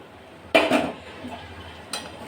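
A metal spoon clinks against a pot while papaya and potato curry is stirred, a sharp clatter followed by a softer scrape and one more faint knock.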